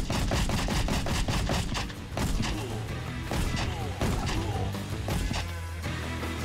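Rapid gunfire from the platform game Rocketbird, with a dense run of sharp shots and impacts over several seconds, heavy and close, plus low thuds and a droning game tone underneath.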